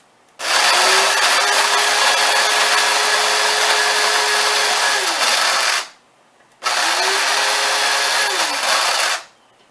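An electric grinder pulverizes dried vegetables into a fine powder, giving a loud, steady whirring roar that runs for about five seconds, stops briefly, then starts again for a shorter second burst.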